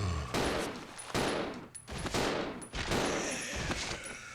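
Rapid bursts of gunfire in the video game Resident Evil Zero HD Remaster, loud repeated shots in quick succession that fill most of the clip.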